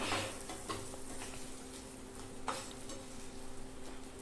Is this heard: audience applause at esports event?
no